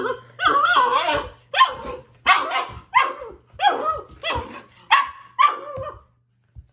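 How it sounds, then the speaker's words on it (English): A puppy barks loudly and close by, seven or so yelping, whiny barks in a steady rhythm, then silence. "This looks like a puppy being a puppy, right?"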